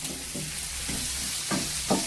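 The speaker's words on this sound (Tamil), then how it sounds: "அழகா வதங்கணுமா, நல்லா கலர்ஃபுல்லா. இப்போ கொஞ்சம் தீயை பெருசு பண்ணிக்கலாம்ப்பா." Brinjal and drumstick thokku sautés in a pan, a steady close sizzle broken by several spoon-stirring scrapes, with no talk.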